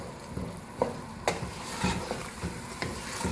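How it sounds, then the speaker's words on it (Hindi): Soaked mash dal roasting and being stirred in a pan over high heat, with a soft continuous sizzle and several sharp scraping stirs of the spoon at irregular intervals, close and fairly quiet, no talking. "दाल को हम तेज़ आंच से भूनेंगे।"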